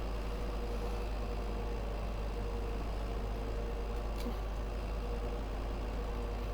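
A ride-on lawn tractor's engine runs at a steady, continuous drone close by, its low rumble unbroken throughout, with a faint brief clink partway through.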